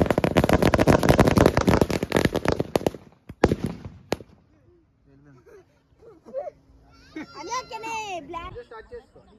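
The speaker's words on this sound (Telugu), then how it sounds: "గ్రూప్ ఫోటో తీసుకుని క్రాకర్స్ అయితే కాల్చారనమాట తమిళనాడులో" A rapid barrage of firecrackers bursts loudly during a family Nagula Chavithi festival gathering in Tamil Nadu, then a few last sharp bangs, followed by children's voices and chatter.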